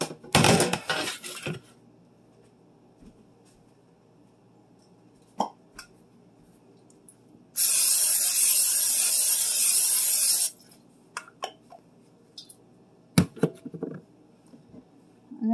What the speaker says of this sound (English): I grab my sheet pan and I'm going to spray it with my butter spray.